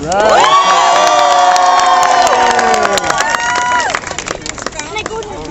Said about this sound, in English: Clap for yourselves for being out here to stand for constitutional rights